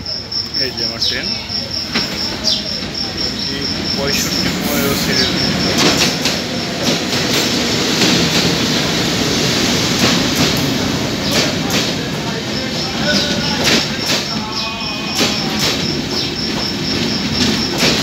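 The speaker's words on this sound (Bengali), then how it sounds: "এই যে আমার ট্রেন" Kopotakkho Express passenger train arriving and rolling past, a steady loud rumble of wheels and carriages lasting throughout with occasional clanks and faint squeals, insects chirping in the background.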